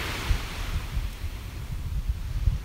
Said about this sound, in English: Gosh, the waves are so relaxing this morning.